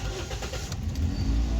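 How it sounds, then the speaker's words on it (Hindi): A Toyota Corolla with a P2121 throttle/pedal position sensor fault cranks and starts right after the ignition is switched on, giving a loud, close, steady low engine rumble that continues throughout with no talking. "ये इग्निशन ऑन"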